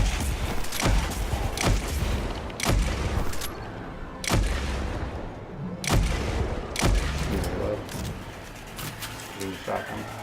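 A shotgun firing in the video game Destiny, about eight loud sharp blasts at irregular intervals of roughly one to two seconds, each with a booming tail, over low game noise.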